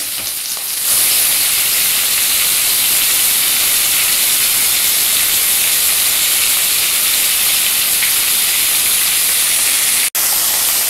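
Garlic, ginger and tomato fry in a pan with a loud, steady sizzle and hiss that stays close and continuous throughout, with one brief break near the end.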